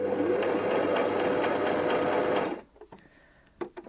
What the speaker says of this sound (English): select stitch C, which is the bar tack at the top of the buttonhole